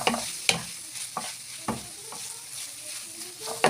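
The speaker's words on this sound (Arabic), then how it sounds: "اللحمه كده بدات تتشوح وتغير لونها" Ground beef sizzling as it is sautéed in a pan for béchamel pasta, a close crackling fry punctuated by several sharp clanks of a spoon stirring against the pan.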